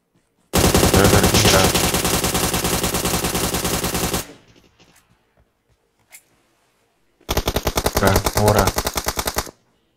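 Rapid automatic gunfire from PUBG Mobile rattles in a long dense burst, breaks off into near silence with a few faint pops, then resumes in a second sustained volley.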